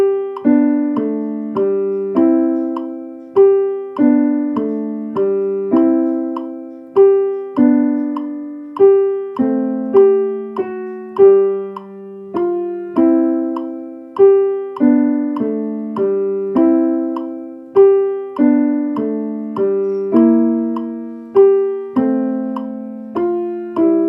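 A piano plays a beginner piece at a steady tempo of 100, with short bouncing, detached notes in a clear repeating pattern, close and alone.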